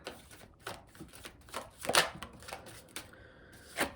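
Tarot cards drawn and handled from a deck, a few quick papery snaps and shuffling flicks close by, in short irregular bursts with no talking.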